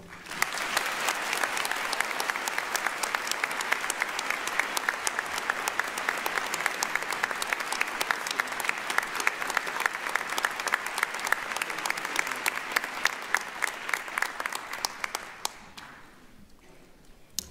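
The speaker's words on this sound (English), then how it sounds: "one more round of applause for both Paul Krieger and Lloyd Weiner, our" Sustained audience applause fills a hall at a 2022 community college arts and sciences commencement following a distinguished alumni award, dense steady clapping that holds strong for about fifteen seconds before fading quickly at the end.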